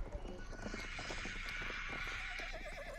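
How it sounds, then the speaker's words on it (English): A horse in Battlefield 1 whinnies over rapid clip-clop hoofbeats, a faint, busy mix of neighing and trotting, with a voice partly under it. "I'm gonna jump on top of fucking Austin's horse and sit up there with him"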